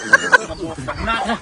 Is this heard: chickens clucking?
yes